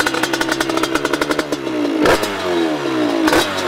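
A 50cc moped engine with a newly changed ignition fires up and revs. Sharp, close popping comes first, then it catches and the revs rise and fall twice, loud and alone.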